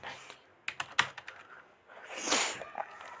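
A computer keyboard is being typed on while a heading is entered in Microsoft Word, giving a short run of sharp, close key clicks followed by a softer, rustling stretch.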